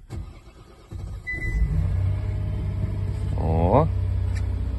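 A KIA Telluride engine cranks and catches at minus 23 degrees, settling into a steady idle with a brief rising rev, close by, while a voice exclaims briefly.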